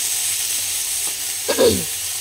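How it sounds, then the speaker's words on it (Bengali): Eggplant frying gently in a little oil, a steady close sizzle that continues throughout, with a brief clink and scrape near the end. "বেগুনটা আগে আস্তে করে ভেজে নিচ্ছি।"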